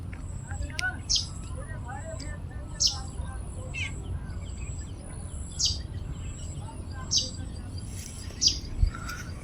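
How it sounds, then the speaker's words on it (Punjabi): Sparrows chirp intermittently in short bright bursts over a steady low background rumble in a village just after rain, moderately distant, with no clear talking. "ਚਿੜੀਆਂ ਚੀਚੀ ਕਰਦੀਆਂ ਵੀ ਚੀਚੀ"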